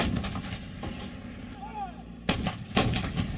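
Army artillery cannons fire in two sharp, booming blasts about half a second apart, heard at a distance over steady outdoor background noise.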